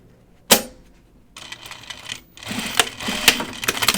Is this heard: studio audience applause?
no